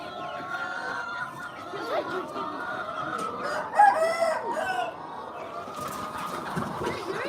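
Chickens at a market for buying Indian chickens cluck busily and a rooster crows nearby, the calls overlapping in a noisy, continuous stream with some people talking in the background.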